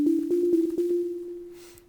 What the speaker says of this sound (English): a Superberry preset called Noisy Sine